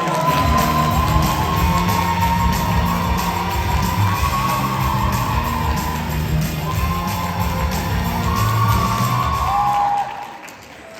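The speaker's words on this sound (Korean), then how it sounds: "큰 박수로 부탁드리겠습니다" Crowd at a stage event cheering, whooping and applauding a leader walking on stage, loud and sustained for about ten seconds, with music playing underneath, before it suddenly drops off.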